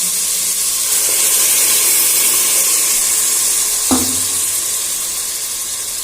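Ground masala frying with vegetables in a pan for veg pulao gives a steady soft sizzle and hiss, with one brief stirring clatter partway through.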